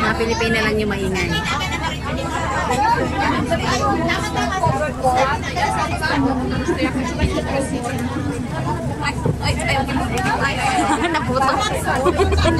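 Loud, dense chatter from a crowd of Filipina women fills a Hong Kong bus station near Repulse Bay. Overlapping voices and laughter run on without a break, with bus and traffic noise underneath.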